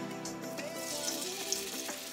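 Potato pancakes (draniki) frying in hot oil, a steady close sizzle with faint crackles running throughout, no voices.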